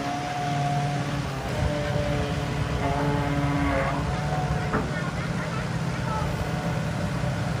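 2007 Hitachi excavator diesel engine running smoothly, a steady loud low rumble with faint tonal hum throughout, with brief speech over it.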